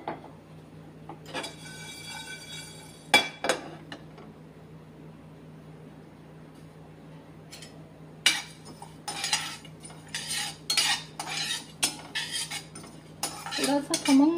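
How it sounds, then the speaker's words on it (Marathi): Cloves and black pepper dry roasting in a pan for mango pickle masala, heard as scattered metallic clinks and rattles of a spoon against the pan, quiet in the middle and busier toward the end, no voices. "लवंग, काळी मिरी, हे सगळं असं ना सुक्क सुक्क भाजून घ्यायचंय, सुक्क भाजायचंय."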